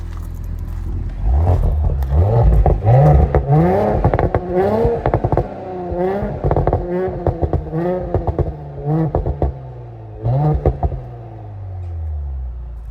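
A 2017 Audi S4 B9 saloon with the 3.0 TFSI, Quattro and Tiptronic, revs repeatedly in sport mode with its exhaust valves open, giving a series of loud, close throttle blips with crackles between them and a final falling idle.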